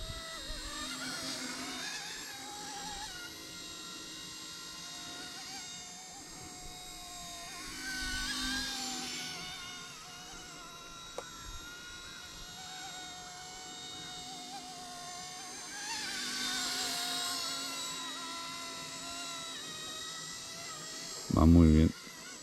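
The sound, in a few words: ERA-RC C189 MD500 RC helicopter flying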